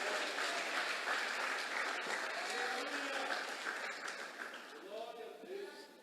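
Church congregation applauding during a sermon, a dense, sustained patter of many hands filling the room, fading somewhat near the end as a voice starts speaking over it.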